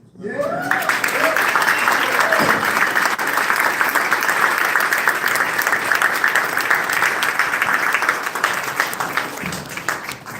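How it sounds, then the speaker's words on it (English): Sustained loud applause from a crowd at an artist celebration in Baltimore, with clapping and some cheering, continuing throughout at an even level. "Big round of applause. Put your hands together"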